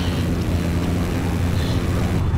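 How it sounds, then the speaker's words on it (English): A steady, loud engine and water rush of a boat in Battlefield 4, droning continuously with a constant low rumble and hiss, no clear voices. "Did you just beach the boat, Wave?"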